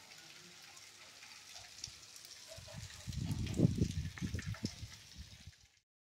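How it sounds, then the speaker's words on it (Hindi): Heavy rain falls in a village, a soft hiss at first that builds into a denser, crackling patter through the middle before stopping abruptly. "बरसात फिर से तेज़ी से शुरू हो चुकी है"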